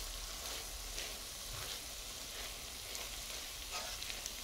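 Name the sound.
stirring bamboo shoot adobo with tuna flakes in a pan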